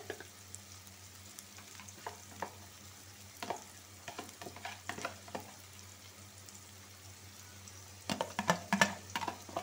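Onion and ginger paste frying in a pan for a chicken curry, a low steady sizzle punctuated by sharp spatula scrapes and taps, with a busier cluster of stirring near the end, close up and without speech.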